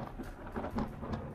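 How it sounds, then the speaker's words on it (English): Thunder in the horror video game Back To Bed, a low rolling rumble with a rain-like hiss, heard alone across a brief stretch at moderate loudness. "Yeah, thunder."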